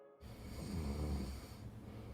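A person imitates their own nighttime snoring with one long, rasping, throaty snore close to the mic, swelling and then trailing off over about two seconds, with no talking.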